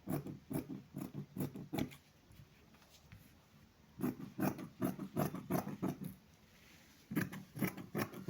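Scissors snip through shirt fabric in three quick runs of crisp, close cuts, separated by short quiet pauses, with no voices.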